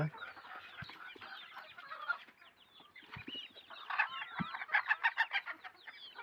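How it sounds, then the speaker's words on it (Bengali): Domestic desi chickens on a small farm clucking and chattering, several birds overlapping in rapid bursts that grow busier and louder toward the end, with a few soft thuds nearby. "আর এখানে এখানে 3টা মুরগি আছে"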